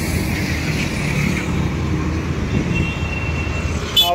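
Road traffic at Chandni Chowk in Pune, a steady loud rumble of cars, buses and trucks near the highway junction, continuous engine and tyre noise throughout.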